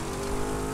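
In The Crew 2 racing game, a car's engine roars at full throttle in a loud, steady, close-up burst of acceleration with a strong droning tone.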